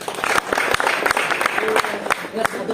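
Applause from a meeting audience, a dense steady spread of many hands clapping at once with a few sharper individual claps standing out, fairly loud and continuous.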